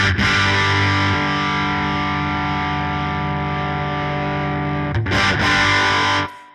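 Electric guitar through a Marshall JCM 900 pedal, a sustained distorted chord held steadily while the contour knob is turned, scooping the tone, then a brief re-strum near the end before the sound cuts off; close and loud, no speech.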